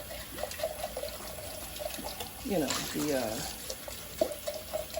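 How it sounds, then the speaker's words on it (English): Canning jars being rinsed under a running tap at a sink, a steady splashing stream close by with shifting pitch as water fills and swirls in the glass, while a person talks over it. "definitely want to rinse well"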